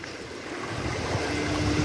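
River water flows past Baikuntha Tal in Madi, Chitwan, a continuous soft rushing wash with no distinct splashes, steady and moderately faint.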